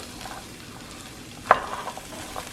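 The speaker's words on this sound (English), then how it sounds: "Alright, I think I got a nice healthy sizzle here." Quiet, steady sizzling of food frying in a pan, with a brief utensil clink partway through.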